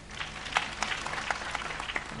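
An audience at a Gujarati dayro comedy show claps in a short, scattered burst that stays fairly even over about two seconds.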